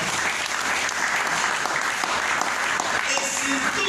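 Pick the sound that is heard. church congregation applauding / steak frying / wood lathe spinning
church congregation applauding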